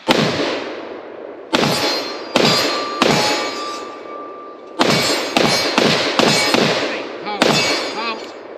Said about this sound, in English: I figured I'd let Fox do the honors of the last mag of the day through the Spear